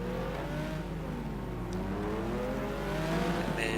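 Race car engines from a simGT sim racing event at the Phakisa circuit hum and rev together on the grid, a steady layered drone of many cars waiting to start, with no talk.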